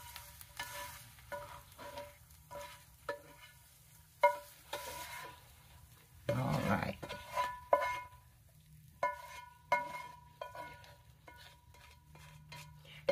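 Onions heat in a cast iron pan with a soft, steady sizzle, broken by intermittent scraping and metallic clinks of stirring nearby, with one louder burst of frying midway.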